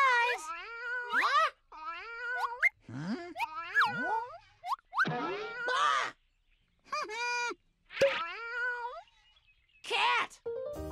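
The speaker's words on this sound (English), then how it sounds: "Cat!" A cat meows repeatedly in a long series of clear, rising and falling calls separated by short pauses, some drawn out like caterwauls, fairly close and alone.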